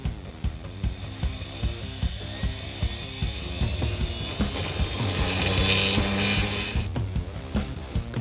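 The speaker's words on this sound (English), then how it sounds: "I switch the motor on and I use a flat file to turn the corner of the pulley at the right diameter" A salvaged washing machine universal motor spins a pulley while a flat file is pressed against it to cut a step, giving a steady mechanical whir with a rhythmic rattling chatter and a rising, hissing scrape near the end before it cuts off.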